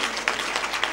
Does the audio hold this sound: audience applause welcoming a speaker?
yes